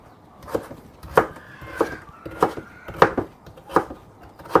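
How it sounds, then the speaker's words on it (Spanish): A knife chopping potato into small pieces on a cutting board, sharp close thuds in a steady rhythm of about eight cuts, with no talk. "Después que hemos picado la papa"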